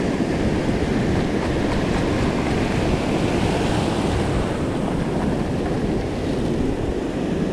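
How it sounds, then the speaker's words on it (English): Ocean waves wash continuously onto a beach, a close, steady rushing surf with no voices over it. "Let's rinse this one in the waves."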